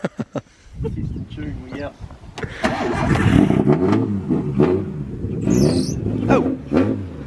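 A car engine revs hard during a street road tune in Gisborne, loud and close, surging and holding under excited shouting voices, with a short squeal near the end.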